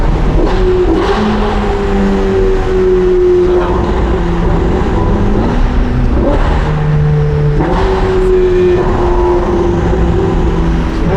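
A Ferrari 488 Pista with Novitec modifications idles under barely-applied throttle inside a tunnel, its engine a steady low drone with gentle pitch rises and dips, loud and close throughout.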